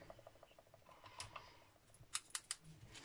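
Scissors fussy-cut paper for a handmade gift card: quiet, close, crisp snips that cluster into a quick run of sharp cuts near the end.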